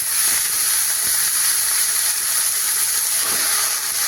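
Leafy greens fry in a pan with garlic, giving a steady, loud, close hiss of sizzling oil that holds evenly throughout without talk.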